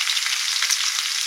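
Steady, even sizzle of mustard oil heating in a pan for a fish and pointed gourd curry, a dense continuous hiss with no talk over it.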